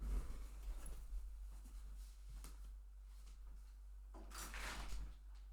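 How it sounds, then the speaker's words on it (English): A door opens to let out smoke, heard as soft rattling and sliding scrapes followed by a louder creaking sweep near the end, indoors and close, with no talking. "I am going to open the door and let out some smoke"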